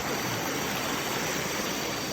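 Ban Huai Huat waterfall in Thailand gives a steady, dense wash of falling water, a continuous broadband roar at moderate level with no voices.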